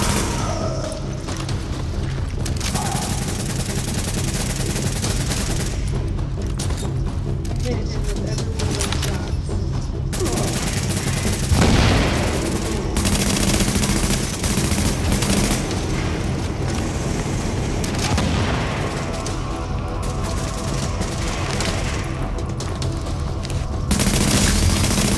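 Heavy sustained gunfire and booming explosions from a firefight in the video game The Division, dense and loud throughout, with voices talking over the shooting.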